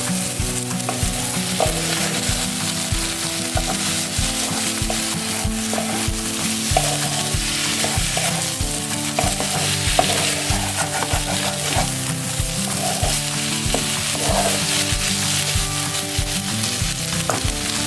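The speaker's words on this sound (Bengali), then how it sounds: "একটু নাড়িয়ে নেব।" Potol posto, pointed gourd cooked with poppy seed paste, gets stirred in a frying pan, a steady sizzle under repeated scraping strokes of a spatula, with soft music playing throughout.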